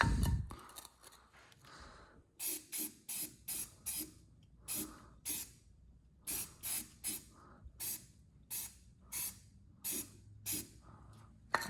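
Undercoating sprayed from an aerosol can onto a rear differential mount area, heard as a rapid series of short, sharp hissing bursts, about a dozen close-up spurts with brief gaps, after an initial low thump.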